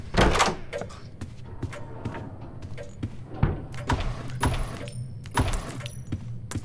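Doors in the Roblox game Doors open with a series of sharp clicks, clunks and thuds at irregular intervals, moderately close, with some jangling and faint chatter beneath.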